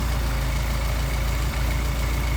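A Mercedes 190SL engine idling low at about 700 RPM on Solex carburetors, a steady loud rumble with an even low pulse and no voices.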